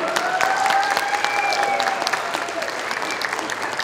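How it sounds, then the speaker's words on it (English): An audience at a county Republican Party convention breaks into sustained, even applause, with faint voices and a tonal ringing carrying through the dense clapping. "please give Lauren a round of applause"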